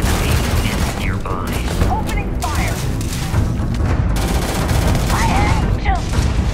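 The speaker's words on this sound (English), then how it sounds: "The enemy is nearby. Opening fire!" Rapid bursts of gunfire and booming impacts from a firefight in the video game Starfield, dense and continuous, with voices and sci-fi effects mixed in throughout.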